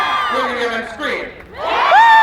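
A Renaissance festival crowd at a whip-cracking show screaming and cheering in a short loud burst, rising again at the end after a brief dip.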